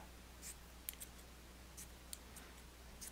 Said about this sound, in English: I'm gonna cut up some more sponges here